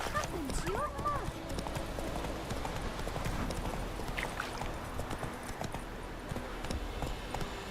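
Roach, Geralt's horse in The Witcher 3: Wild Hunt, trots with a brisk continuous clip-clop over ambient game noise, while a voice speaks over the hoofbeats early on and a short whinny-like call rises near the start.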